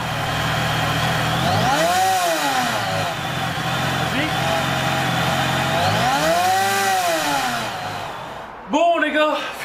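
A car engine on a Kompressor build revs up and settles twice in a row, rising and falling strongly up close, before a shorter final blip, while people talk nearby.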